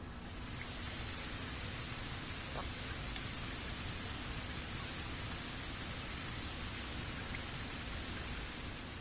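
Steady rainfall in the Bleach Rebirth of Souls video game, a constant even hiss of rain with no breaks, faint and uniform throughout.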